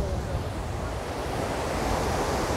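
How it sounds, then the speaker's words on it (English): A steady, dense roar of rushing water from Njupeskär waterfall in Sweden fills the clip, constant and close with no breaks. "So I think this is the water coming from the waterfall."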